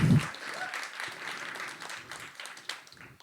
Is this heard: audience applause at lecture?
yes